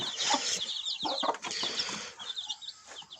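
Chickens cluck and chirp nearby in a busy, overlapping chorus, with occasional rustling and wing flutters.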